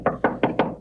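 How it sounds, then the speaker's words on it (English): Four quick knocks on a door, evenly spaced and close, sharp and hollow, with nothing else heard. "and he knocked."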